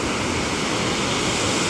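The Dhutpapeshwar waterfall near Rajapur flows down the mountain near a temple, a steady, dense roar of rushing water filling the whole clip with no voices.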